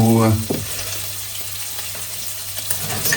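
Guanciale frying in a pan gives a steady close sizzle, with a voice talking briefly at the start over it.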